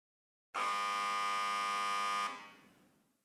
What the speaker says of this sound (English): the buzzer signaling the start of the play sounds